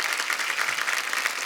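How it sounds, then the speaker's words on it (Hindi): Studio audience applause welcoming the star cast of a film onto a Hindi comedy talk show stage, a steady dense wash of clapping throughout, moderately loud with no voices over it. "जोरदार तालियां पूरी स्टारकास्ट के लिए"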